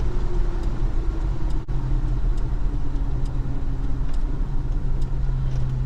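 A Holden HK car engine hums steadily with low road rumble throughout, a continuous even drone with no voices.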